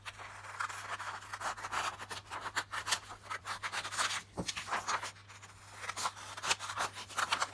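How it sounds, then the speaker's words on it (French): Scissors snipping through a paper sewing pattern for a face mask, a close series of irregular cutting and rustling strokes over a faint steady hum, with no voices. "on va maintenant découper notre patron"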